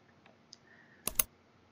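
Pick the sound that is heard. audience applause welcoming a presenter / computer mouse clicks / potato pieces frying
computer mouse clicks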